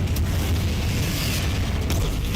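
A Confringo blasting-curse explosion in a Hogwarts video game, a dense, loud, sustained rumbling blast with brief bright cracks breaking through the roar.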